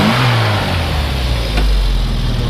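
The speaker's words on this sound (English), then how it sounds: "Go ahead and rev it up a little bit." A 1964 Austin Mini Cooper engine revs up from idle, its loud, steady mechanical roar climbing in pitch and settling again, heard up close with no talking.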